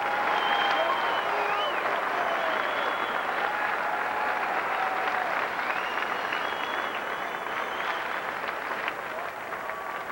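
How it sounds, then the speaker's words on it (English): Arena crowd at the 1999 IHSA boys Class AA basketball championship in Peoria applauds a retiring official: sustained, dense clapping over ten seconds, with scattered whistles and crowd murmur mixed in. "Join us, please, with your applause in saying thanks to Don Robinson for a job well done"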